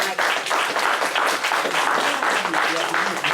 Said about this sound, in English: Give a round of applause for the elder.